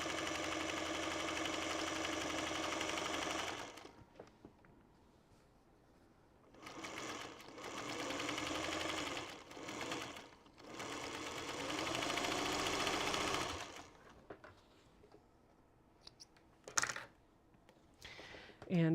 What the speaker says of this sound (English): I'll bring this over to my sewing machine and just sew it with a 1/4 inch seam allowance all the way